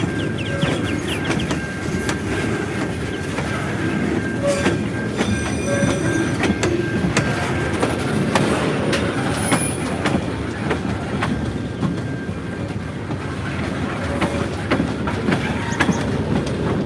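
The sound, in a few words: train passing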